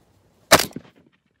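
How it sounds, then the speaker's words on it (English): A single sharp rifle report during long-range shooting at 560 yards, a clean crack followed by a short fading echo in otherwise quiet air. "Shot 560 yards. Nailed it."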